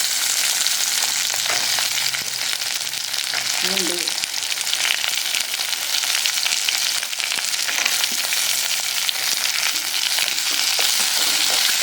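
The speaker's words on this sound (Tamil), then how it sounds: "நடு நல்லா பொரிஞ்சிட்டு இப்போ காஞ்ச மிளகா சேர்த்துக்கலாம் கூடவே" Onions and dried red chillies fry in hot oil in a pan, giving a loud, close, continuous sizzle and crackle for about twelve seconds, with a brief faint sound near the middle.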